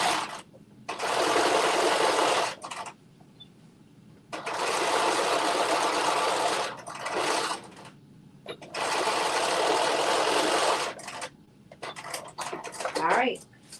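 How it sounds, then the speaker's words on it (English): A sewing machine stitching jumpsuit pants runs in three long, steady bursts separated by pauses, close and loud, with brief fabric handling sounds between runs. "So now we have sewed our pants together."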